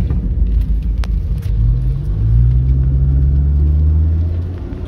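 A car drives through a neighborhood in Danville, New Hampshire, on a cold, wet April day with rain, sleet and hail. It makes a steady, close, low rumble that swells briefly as it accelerates.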